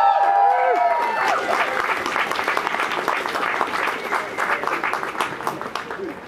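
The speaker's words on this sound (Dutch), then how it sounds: "Een applaus." A crowd at a protest against police violence breaks into applause, dense clapping with some voices over it, gradually thinning out across the stretch.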